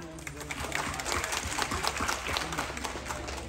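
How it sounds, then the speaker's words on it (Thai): Crowd clapping at a Thai buffalo show in Chiang Mai, a moderate, slightly scattered patter heard from a distance, with a hint of voices underneath. "ใครคิดว่าวันนี้แชมป์จะอยู่อุทัยขอเสียงปรบมือครับ"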